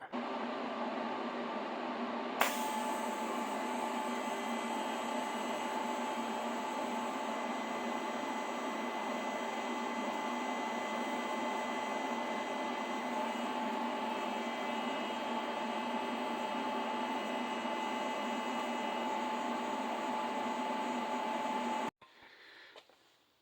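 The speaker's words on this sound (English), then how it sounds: "got the piece welded on the downpipe there" Welding a piece onto a car's exhaust downpipe, a steady, loud, continuous crackling hiss that starts with a sharp strike and runs unbroken for about twenty seconds before cutting off abruptly.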